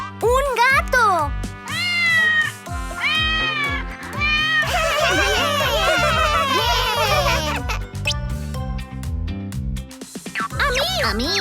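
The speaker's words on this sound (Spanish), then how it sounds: "¡Un gato!" Repeated cartoon-style cat meows, high and bending in pitch, sound over bouncy children's music in a colors-and-animals learning show, with lively voices also present.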